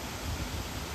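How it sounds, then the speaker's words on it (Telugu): Water from a roadside waterfall beside the NH44 highway near the Maharashtra border pours in a steady, dense broadband rush with a deep low rumble, loud and constant, with no voices over it. "మనకు రోడ్డు పక్కనే వాటర్ ఫాల్స్"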